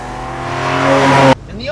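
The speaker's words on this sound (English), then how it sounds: "from a dead stop is where this thing really pulls" Ferrari 456 GTA V12 launching from a standstill through its old torque-converter automatic, the engine note climbing steadily and loudly for over a second before cutting off abruptly.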